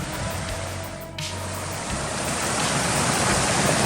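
Cow Creek flowing below a mountain trail near Sheep Mountain, a continuous rushing wash that swells slightly louder partway through, with a low hum fading out early on.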